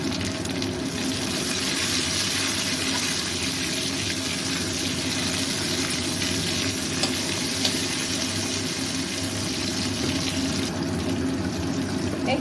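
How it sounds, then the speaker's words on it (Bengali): Tomatoes tipped into fried onions in a pan for tengra fish jhol give a steady, dense sizzle that holds evenly for the whole stretch, with no voices. "পেঁয়াজটা ফ্রাই হয়ে গেছে, টমেটোগুলো দিয়ে দিলাম।"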